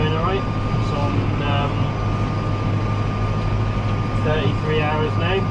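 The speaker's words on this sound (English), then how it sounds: "Tractor seems to be going alright." A Massey Ferguson 5S115 tractor engine runs steadily while cutting hedges with an Orsi Alpinist 460 flail, giving a constant loud hum and drone, with someone talking over it.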